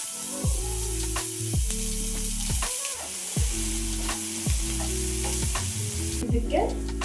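Sliced onion and green chilli fry in a hot pan with a steady loud sizzle, and a spatula stirs in repeated scraping strokes roughly every second, close and without talk.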